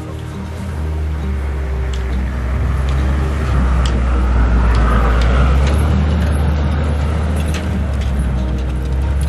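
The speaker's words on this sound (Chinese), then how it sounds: "他们的车也开下来了" A car drives down onto a frozen river near Mohe on a winter road trip, its engine a low steady rumble that grows slightly louder over several seconds, with crunching and scraping underneath and no voices.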